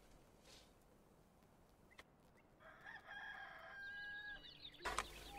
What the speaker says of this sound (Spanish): Vale, canto el gallo.